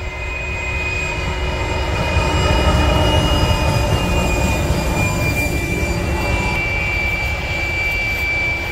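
A train passes along nearby rails, a steady droning rumble with sustained tonal whine layered on top, swelling slightly midway and holding at moderate loudness throughout, with no talking.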